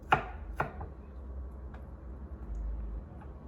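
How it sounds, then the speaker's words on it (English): A knife chops onions for a fish and shrimp ceviche: two sharp, close chops come first, then a few fainter taps over a low background hum. "I'm cutting up all my vegetable for my ceviche."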